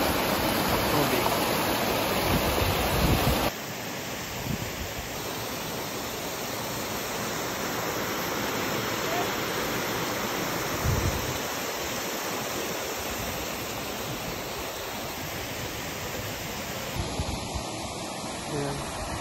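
Talon Pari Falls in Doña Remedios Trinidad, Bulacan pours as a loud, steady rush of falling water that fills the scene close by, with faint voices now and then.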